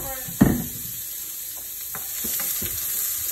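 Donuts dropped into hot oil at about 340 degrees sizzle, with a sharp splash-like burst at first, then a steady low fizzing hiss that continues with a few soft clinks behind it.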